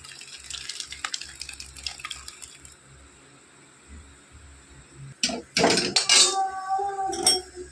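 Whey water poured off chhena curdled with mango, first as faint trickling and dripping, then as a louder splashing pour into a vessel near the end.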